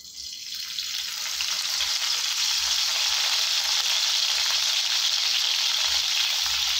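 Fresh curry leaves sizzle in hot oil, a loud, steady, hissing crackle that fills the whole stretch without letup and with no talking.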